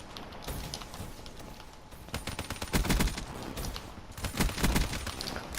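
A PPSh submachine gun fires in a video game, with rapid bursts of automatic gunfire building into dense, loud volleys near the end, without any talk.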